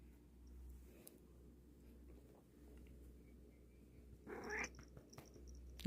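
A sleepy domestic cat purrs softly and steadily up close after just waking, a low continuous rumble that swells briefly with a rustle near the end.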